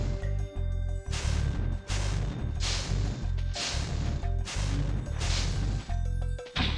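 Repeated heavy crashes and whacks ring out as enemies are smashed in Spyro the Dragon on the PS1, about five loud impacts in a regular rhythm over droning game music, with no talking.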